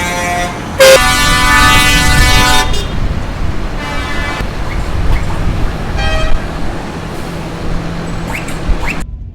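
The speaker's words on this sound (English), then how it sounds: "I think there's around 50 tractors here." About fifty tractors gather for a Christmas charity tractor run for farm forage. One long, loud horn blast is followed by a few shorter toots over a steady, idling engine rumble.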